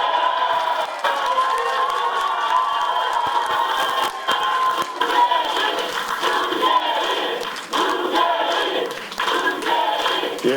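An audience at a Busan party welcome event for new members greets a speaker with sustained clapping and crowd noise, dense and steady throughout with scattered cheers mixed in.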